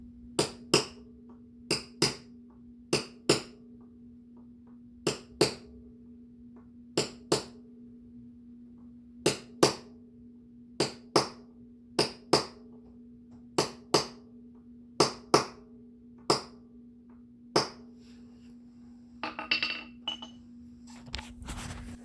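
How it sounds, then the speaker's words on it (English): Hammer strikes bend a locking washer over the countershaft nut of a DRZ400SM motorcycle: sharp metallic taps come close up, mostly in quick pairs spaced a second or so apart, over a faint steady hum, followed by some rustling at the end. "Hit a little on the right, hit a little bit on the left, hit a little bit in the middle."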